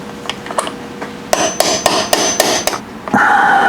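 A hammer tapping a socket while adjusting valves on a 1984 Honda 500 Interceptor. A few light taps come first, then a run of about six sharp metallic strikes in quick rhythm, close and loud.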